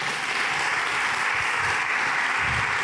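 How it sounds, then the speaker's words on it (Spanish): A church congregation applauds together in a dense, even wash of clapping that holds steady at moderate loudness for a few seconds. No voices rise above it. "Yo a usted le hubiera dado un aplauso al Señor."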